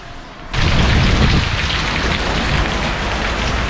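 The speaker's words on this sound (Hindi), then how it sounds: "और बहुत बारिश" Heavy monsoon rain in Mumbai starts abruptly after a quiet moment and then pours down as a loud, dense, continuous hiss of water hitting surfaces close by.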